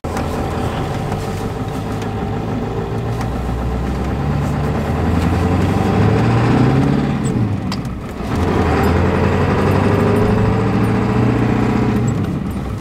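A 1990s-style OBS Ford F350 pickup's engine drones steadily while driving, a loud low rumble that swells and eases as it moves, briefly dipping near the end before building again; no talking.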